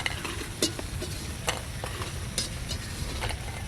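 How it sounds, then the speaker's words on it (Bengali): Handmade lentil dumplings (bori) fry in oil in a village kitchen, a steady close sizzle broken by scraping stirs and light clinks of a spatula, no voices. "বড়ি ভাজা হয়ে গেছে"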